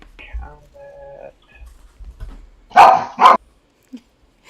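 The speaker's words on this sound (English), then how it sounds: "I hear puppies." Two sharp, loud puppy barks in quick succession, close by, following a stretch of quiet indoor talk during a tabletop roleplaying game session.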